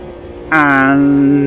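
A V12 race car in Automobilista 2 held at full throttle, a loud steady harmonic engine drone that cuts in abruptly and sustains evenly without a break.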